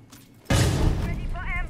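Gunfire through a wall in Rainbow Six Siege, a sudden loud burst of booming shots that keeps rumbling, with a voice speaking faintly in the background.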